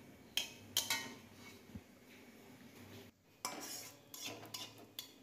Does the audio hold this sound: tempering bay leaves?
yes